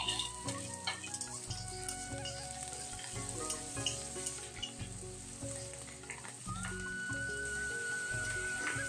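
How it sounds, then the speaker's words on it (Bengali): Onion and chillies fry in hot oil in a pan, a steady close sizzle running throughout beneath prominent rhythmic background music. "পেঁয়াজটা অর্ধেক ভাজা হয়ে গেছে"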